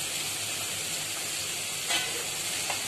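Grated coconut, ginger, garlic and green chilli sauté in a pan over medium flame for a Tamil salna recipe, giving a steady, close hiss and sizzle with a brief stirring scrape partway through.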